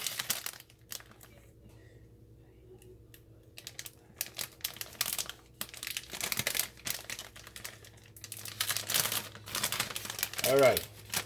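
A plastic bag of shredded cheese being opened up close, giving bursts of crinkling and crumpling that grow louder and busier toward the end, with a low hum and brief talk in the background.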